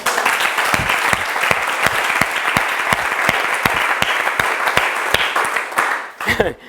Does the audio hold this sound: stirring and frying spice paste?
no